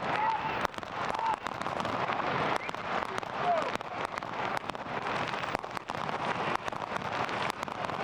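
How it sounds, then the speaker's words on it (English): Fireworks go off outside a football stadium during the FC Bayern Munich II vs. 1860 Munich third-division derby, heard as rapid crackling pops and bursts under steady crowd noise and a commentator's voice. "Some fireworks go off outside the stadium."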